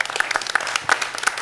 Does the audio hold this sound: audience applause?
yes